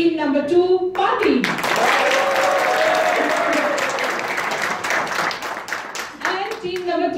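An audience claps and cheers loudly for the party team at a BenQ 4K projector launch, a dense burst of applause lasting several seconds with voices before and after it.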